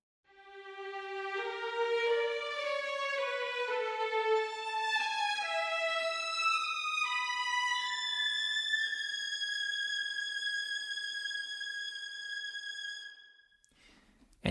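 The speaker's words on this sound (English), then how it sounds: "Okay, let's hear the tree now by itself." Orchestral chamber strings playing a slow legato line, captured only from the tree microphone position: smooth sustained bowed notes stepping gently in pitch, moderately soft and alone, ending with a brief click.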